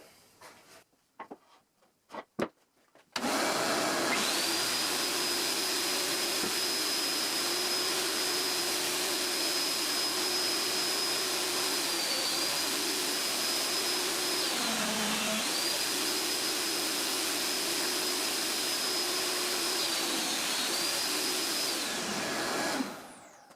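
A Grizzly G0958 jointer-planer feeds hard maple through its planer, a loud, steady high-pitched cutter whine holding for about twenty seconds with brief dips as the load changes, after a few quiet knocks at the start.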